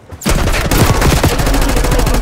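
Dense automatic gunfire in the shooter game Call of Duty: Black Ops 6, a loud sustained burst of rapid shots that starts abruptly and keeps firing without a break.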